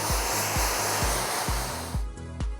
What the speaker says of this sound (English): if you're going to do this at home by blast drying your hair, tip your head upside down